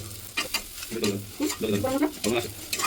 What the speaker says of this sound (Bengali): এবার মশলাটাকে ভালো করে কষিয়ে নিচ্ছি